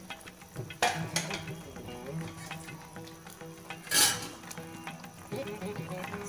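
Chana dal added to a hot tempering for mor kuzhambu fries in a pan with a soft, fairly faint sizzle, while a spoon clinks and scrapes now and then, including one sharper clatter midway, nearby and without speech.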